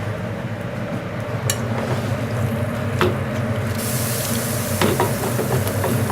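Rabbit stew with tinned tomatoes is stirred in a pan, a steady low bubbling and scraping with occasional sharp knocks of the spoon, plus a soft sizzle that brightens near the end.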